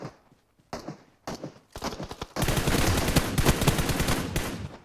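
Gunshots crack in a PUBG Mobile squad match: a few isolated shots with pauses, then a dense, sustained volley of rapid fire that stays loud to the end.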